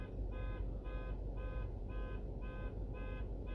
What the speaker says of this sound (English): turn your fucking alarm off.